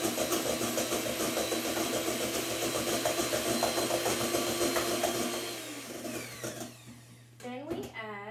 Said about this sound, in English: first you get started with the egg whites. And you beat this on medium speed until it's frothy